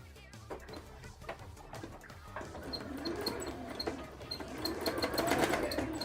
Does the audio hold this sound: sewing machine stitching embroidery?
yes